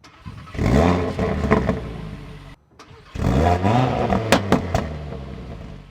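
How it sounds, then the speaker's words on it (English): A 2025 Audi RS3 engine revs hard twice with a brief lull between, followed by a quick series of sharp pops and bangs from the exhaust. "You got to blip the throttle as well to get a bang."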